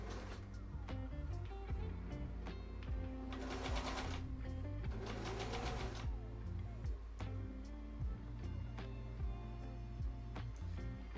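Sewing machine running indoors, a steady close mechanical whir with rapid rhythmic needle clatter that swells into two louder bursts partway through.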